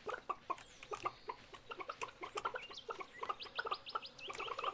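Chickens in the farming game Stardew Valley cluck in rapid, stuttering bursts, several birds overlapping in a busy continuous stream, fairly close and clear with no talk over them.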